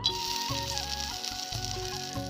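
Dried fish (shutki) frying in a hot kadai over a stove, a soft continuous sizzle under steady background hum.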